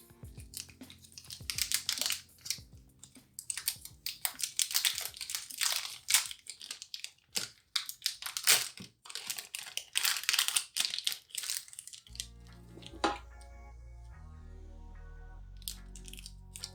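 Soft Fimo polymer clay is kneaded and mixed by hand, giving close, irregular squishing and crinkly crunching bursts that stop after about twelve seconds, when steady tonal background music takes over.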